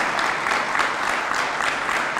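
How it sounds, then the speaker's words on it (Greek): Sustained applause from an audience at a Greek political event in Makrakomi, a dense, even patter of many hands clapping steadily, fairly loud and without talk. "Και νομίζω ότι αξίζει το χειροκρότημά σας"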